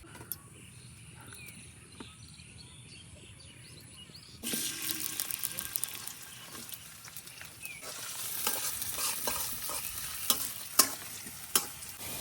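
Fish and spiny gourd put on to cook in a pot for a rural village meal: a quiet start, then a sudden steady sizzle and bubbling with scattered clinks and clicks, close and moderately loud, no talk.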